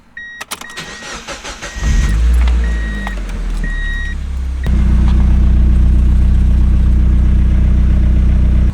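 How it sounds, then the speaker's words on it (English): A Mazda Miata engine cranks with a brief starter whir, catches, and settles into a steady, loud idle after an oil change, with a few electronic chimes before it fires. "let her idle for about 10 minutes just to circulate everything"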